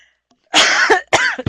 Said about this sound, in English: Sorry, I did not want to cough in your ear.